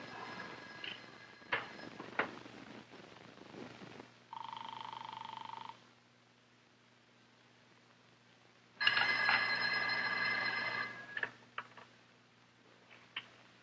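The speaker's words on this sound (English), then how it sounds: "Ruth, don't you hear the phone?" An old-style telephone bell rings indoors in a 1962 film scene, two separate bursts of ringing with a long pause between them, over quiet room noise and a few faint knocks and ticks.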